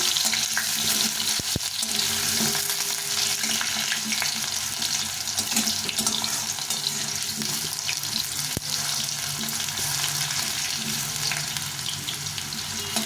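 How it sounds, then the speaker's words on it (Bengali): Quartered potato pieces fry in hot oil in a pan, giving a steady, close, dense sizzle that runs unbroken throughout, with occasional light clinks and no talking. "এই আলুটা ভেজে নেব আলুটাকে একটু লাল করে ভেজে নিতে হবে"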